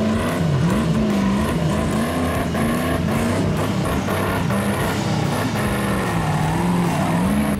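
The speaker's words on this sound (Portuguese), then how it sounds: "O Willys Diesel veio cantando turbina" A Willys diesel jeep engine labours along an off-road trail, sounding loud and close with a steady, wavering drone whose pitch rises and falls as the throttle changes. No voices can be heard.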